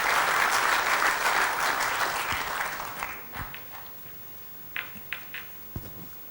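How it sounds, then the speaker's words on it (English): An audience at a business session claps warmly to welcome the chief guest, a dense burst of applause that thins out into a few scattered final claps. "With a warm round of applause, please help me invite Mrs. Shobha Chari to present her address"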